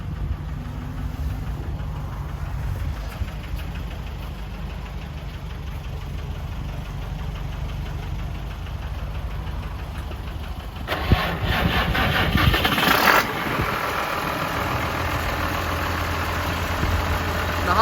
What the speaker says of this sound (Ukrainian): тепер давайте його заведемо і послухаємо на роботу двигуна